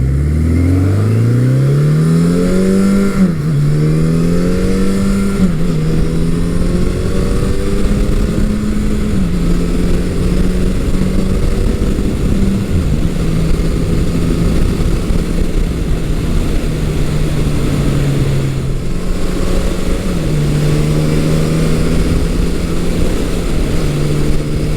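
A 1983 Suzuki GS1100E motorcycle engine revs up hard on a test ride, its rising pitch climbing through the gears, then holding a steady, loud drone close to the rider with wind noise throughout.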